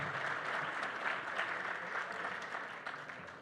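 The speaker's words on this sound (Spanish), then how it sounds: "Un aplauso para todos en opinión pública." An audience applauds at a mining congress, a continuous, fairly soft spread of clapping from a large crowd with no talk over it.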